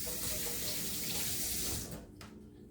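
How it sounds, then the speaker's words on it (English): Water running from a tap while hands are washed in a kitchen sink, a loud steady gush that tapers off near the end. "Wash our hands."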